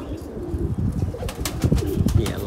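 Pet budgerigars and lovebirds call from their enclosure in a dense, continuous stream of chirps and soft cooing notes, close and fairly loud, with no one speaking.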